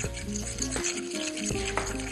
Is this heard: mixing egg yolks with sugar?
yes